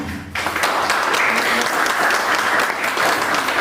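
An audience at a gathering in Darjeeling breaks into sustained applause, a dense, steady clatter of many hands clapping that starts abruptly and continues evenly throughout, with no talk over it.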